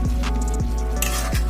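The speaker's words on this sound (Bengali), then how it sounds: "এবার আমি কিন্তু নাড়াচাড়া করতে থাকব।" Mustard greens being stirred in a pan over a high gas flame, a steady close sizzle with a few light metallic clinks of the spoon against the pan.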